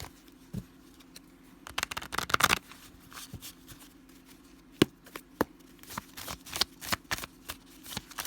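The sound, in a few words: shuffling a deck of tarot cards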